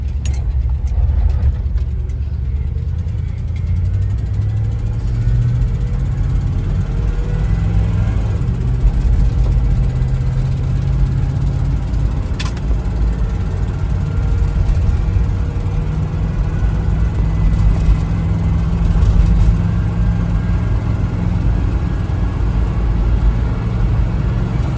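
A 1985 Jeep Grand Wagoneer with an AMC 360 V8, Edelbrock intake and Chrysler 727 three-speed automatic drones deep and steady under part throttle, its low engine note swelling gently now and then, heard loud from inside the cabin.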